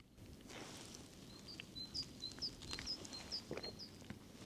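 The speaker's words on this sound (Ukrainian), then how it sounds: "Якщо вам чуть, як пташки цвірінчать." Small birds chirp outdoors beside a lake on a mild winter day during a fishing outing. Short, high tweets repeat in a loose series over a faint, steady outdoor background.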